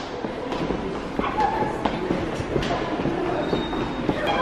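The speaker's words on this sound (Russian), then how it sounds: "И в Сеуле только вот такие безопасные закрытые метро" A Seoul subway metro train at an enclosed platform gives a loud, steady rumble with rattling and faint clicks close by, with some voices in the background.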